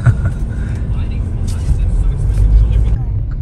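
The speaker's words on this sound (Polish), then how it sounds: "To jest ruch uliczny tutaj u mnie w mieście." Street traffic in Ho Chi Minh City (Saigon), Vietnam: a steady, loud rumble of passing vehicles and engines fills the whole stretch, with faint voices mixed into the busy roar.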